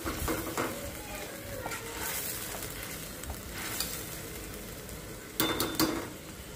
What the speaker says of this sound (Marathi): हे जे मिश्रण आहे हे तेल सुटेपर्यंत फ्राय करून घेऊ